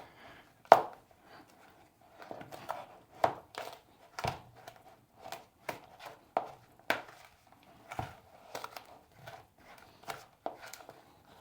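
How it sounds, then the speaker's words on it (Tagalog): Cookie dough being mixed by hand in a bowl, giving irregular soft knocks and scraping thuds, about a dozen spread unevenly, fairly close and moderate in level with no talk. "Haluin natin ng maayos to guys para talagang hindi masayang yung ating gagawing cookies."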